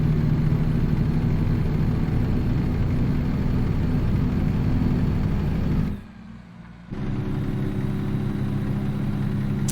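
A Western Star 49X truck engine idles in American Truck Simulator, a steady low rumbling drone that cuts out briefly for about a second before resuming at the same level.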